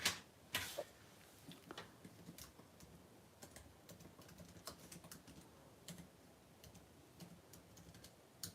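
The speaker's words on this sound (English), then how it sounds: "I'm going to type that in the comments" Typing on a computer keyboard, quiet irregular clicks and taps in short bursts, close and faint, with no voices.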